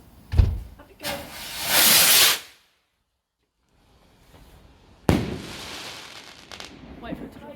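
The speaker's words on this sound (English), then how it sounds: "Daddy's doing a rocket." Backyard firework rocket launching with a sharp pop and a rising whoosh of hiss, then after a lull a loud bang and crackling outdoors, with voices speaking nearby.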